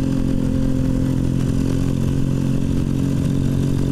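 Daytona DY50 EFI moped being ridden, its small engine droning steadily and loudly with road rumble and rattling, heard from close by.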